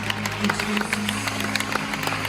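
Applause from a congregation at an evangelistic worship service, a continuous spread of clapping over a steady low hum of instruments or sustained tones, moderately loud with scattered sharper claps.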